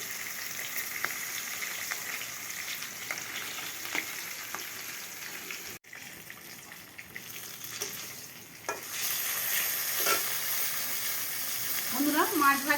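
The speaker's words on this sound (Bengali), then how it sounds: "মাছ ভাজা হয়ে গেছে" Fish frying in hot oil in a pan, with a steady broadband sizzle throughout, a brief drop near the middle, and occasional stirring or handling clinks; the frying grows louder toward the end.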